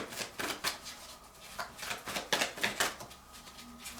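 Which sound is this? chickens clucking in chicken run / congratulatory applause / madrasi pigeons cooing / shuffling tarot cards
shuffling tarot cards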